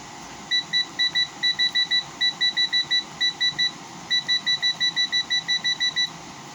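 A 2007 Frigidaire 5200 BTU window air conditioner gives rapid high electronic beeps in quick bursts as the temperature setting is stepped up, about two dozen evenly spaced chirps over wind noise and a running hum.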